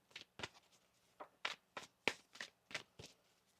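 Tarot cards being shuffled by hand, a series of about ten soft, distinct riffles and taps in an uneven rhythm, quiet and close with no talking.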